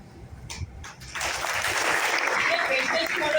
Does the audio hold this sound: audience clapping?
yes